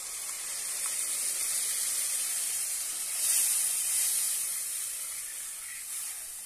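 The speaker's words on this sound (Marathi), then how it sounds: "आता यामध्ये आपण वरण घालूया।" Cooked dal hits hot oil tempering in a pan and sizzles, a steady bright hiss that swells midway and then gradually eases, close and with no talk.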